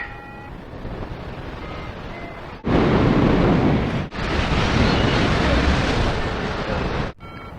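Strong wind roars across the microphone while paragliding over Dubai's desert hills, a steady loud rushing that swells sharply in the middle and dips briefly twice, with no clear talking.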